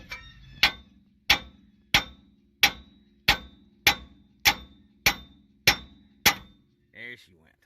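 Hammer blows on a 2000 Lincoln Town Car's outer tie rod end to knock it loose, ten evenly spaced sharp metallic strikes with ringing decay, close and loud, then a short clank at the end.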